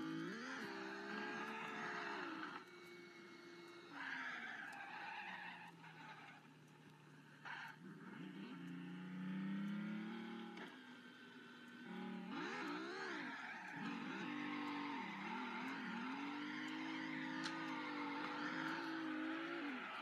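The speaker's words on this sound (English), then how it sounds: "I think we're just kind of drifting this part now." Drift car in the CarX Drift Racing video game skidding and revving, with game engine tones rising and falling continuously over about twenty seconds and tire squeal mixed in, loud and close with no talk.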